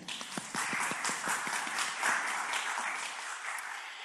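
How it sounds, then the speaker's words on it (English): An audience at the UCC Earth Summit breaks into applause, starting with a few scattered claps that swell into steady, dense clapping before gradually thinning out, moderately distant. "Let's have a round of applause for that."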